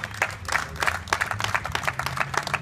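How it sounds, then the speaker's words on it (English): A short burst of scattered hand clapping from a small group, uneven and moderately loud. "please give these gentlemen a round of applause"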